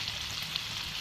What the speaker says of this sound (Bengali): এখন আমি টাকি মাছগুলোকে দিয়ে দিব, দিয়ে সুন্দরভাবে ভেজে নিব।